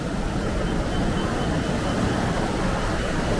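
Waterfall rapids rush and churn steadily at a river bend near Canberra, Australia, a dense broadband roar, close and unbroken, with some wind buffeting the microphone.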